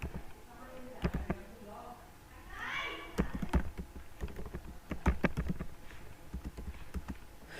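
Rapid keystrokes on a computer keyboard while code is typed, a steady run of crisp clicks close by, mixed with a speaking voice.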